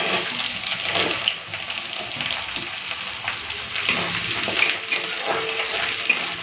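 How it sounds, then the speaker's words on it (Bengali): Chopped onion frying in hot oil with dried red chillies and five-spice seeds, a steady crackling sizzle throughout, fairly close, with occasional soft stirring scrapes. "তো পেঁয়াজটা ভেজে নিয়েছি"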